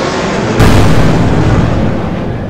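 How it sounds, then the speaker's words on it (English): A huge explosion destroys the Chimera in a Power Rangers audio drama finale, a loud, sustained blast with a sharp onset and broad, roaring rumble that fills the whole stretch with no voices. "In one last huge impact, the Chimera is destroyed."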